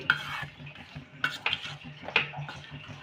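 Jaggery melting with a little water in a pan over a medium flame, stirred by a spoon that scrapes and taps the metal in several short strokes over a quiet low sizzle.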